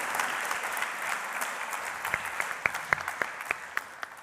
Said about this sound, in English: please give a warm round of applause to our colleagues